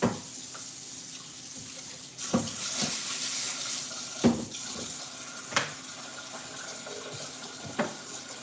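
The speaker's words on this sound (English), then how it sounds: "After we give it a quick rinse." Water runs steadily from a kitchen tap while something is rinsed during empanada preparation, a continuous splashing stream with a few louder splashes and knocks, close and alone without talk.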